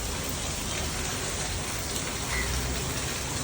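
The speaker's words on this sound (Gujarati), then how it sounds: "હવે છે ને વરસાદ ચાલુ થઈ ગયો." Steady rain falling outdoors, a continuous even hiss of drops on surfaces that holds at a constant level throughout with no voices.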